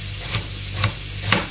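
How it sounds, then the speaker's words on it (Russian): A knife cuts through cabbage for a mushroom solyanka, giving three evenly spaced crisp chops against a board with a steady low hum underneath. "Начинаю резать капусту."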